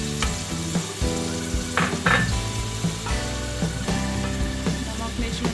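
Garlic and ginger fry in a pan with onions and ground tomato, a steady close sizzle broken by several sharp stirring clatters and scrapes.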